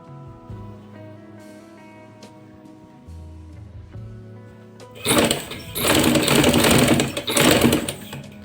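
A sewing machine stitches loops onto a ladies' cuff. Soft tonal background comes first, then the machine runs loud and close for the last few seconds in a steady whirring burst with a brief pause.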